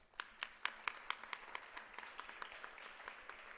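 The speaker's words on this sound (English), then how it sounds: "give yourselves a round of applause." Graduates at a graduation ceremony clap for themselves: a handful of sharp, distinct claps stand out close by at first, then thin into softer, scattered clapping over a faint background.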